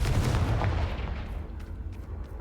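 A Confringo explosion spell goes off in a Harry Potter video game: one heavy, close boom at the start that rumbles and fades away over the next couple of seconds.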